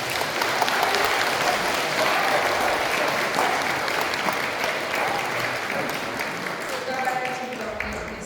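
A church congregation at a Catholic Mass celebrating the parish priest's feast day gives long, loud applause to welcome him, dense clapping from many hands that holds steady and fades slightly toward the end.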